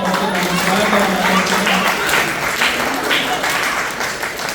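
Audience applause at a Guru Purnima celebration at a yoga gurukula, a dense wash of clapping from a crowd, loud and sustained, gradually thinning toward the end.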